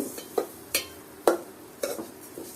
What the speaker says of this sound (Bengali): এগুলো এখন আলতোভাবে নাড়াচাড়া করতে হবে চুলা কম করে দিয়ে